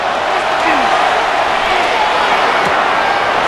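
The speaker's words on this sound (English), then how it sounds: "This crowd, they're trying to force a false start." A loud, sustained stadium crowd roar from the video game Madden NFL 26 on PS5 swells before a third-and-inches snap in a Panthers versus Jaguars game, a dense, unbroken wall of noise.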